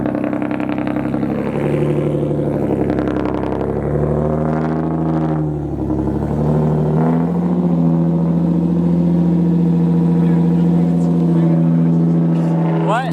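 Lexus IS300 car pulled out slowly with a loud, rumbling engine idling and lightly revving close by, people talking over it throughout.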